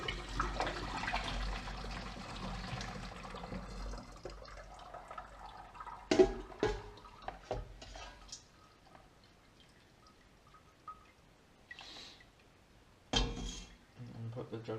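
Homebrew wine draining from a container into a jug, a soft trickle and dripping that fades after the first few seconds, followed by scattered clunks and knocks of handling in a quiet room.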